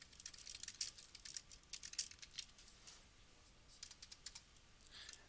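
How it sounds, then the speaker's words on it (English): A comment is typed on a computer keyboard in quiet, light bursts of close clicking keystrokes with brief gaps. "let's say I wanted to type a comment here."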